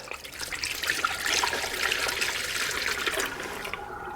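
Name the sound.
coolant being poured into cooling system through funnel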